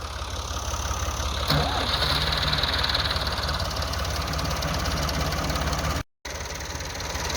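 A tractor engine idles steadily and loudly nearby while its chain is stuck tight, a continuous rhythmic chug that cuts out for a split second near the end.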